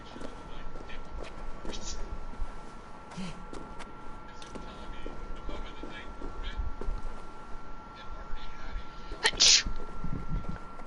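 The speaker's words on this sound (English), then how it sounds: "I don't want another sneeze." A single sharp sneeze bursts out near the end of a live gaming stream, close and loud over steady background game audio and a talking voice.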